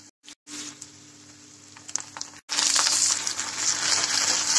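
Ginger-garlic paste hitting a pan of softened onions and garlic for a fish curry: a steady low frying hiss, then a brief pause before a sudden loud, bright sizzle that stays strong.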